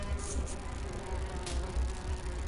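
Bees buzz in the Grim Fandango video game, a low steady drone with faint pulsing swells, lasting about two and a half seconds with no speech over it.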